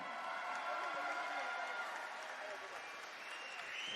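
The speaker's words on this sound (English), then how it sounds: "One more round of applause." A crowd applauds a swimmer after a new U Sports record at a university swimming championship final. The dense, steady roar of clapping and cheering fills the pool venue for the whole moment.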